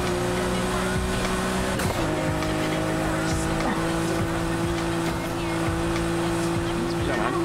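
A car boosts at high speed in the racing video game Need for Speed Heat, its engine holding a loud, steady drone with tire noise and brief impacts, while a player talks over it.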